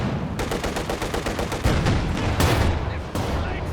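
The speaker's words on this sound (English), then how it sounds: "And I don't know what he's doing with that machine gun now" Machine gun fire in Company of Heroes 2, rapid rhythmic bursts of close, loud automatic shots with heavier booming impacts mixed in, continuing steadily, with a commentator talking underneath.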